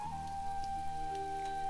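Steady rain falls in a forest, a dense, even patter of drops that continues throughout at a moderate level, with a thin sustained tone running underneath.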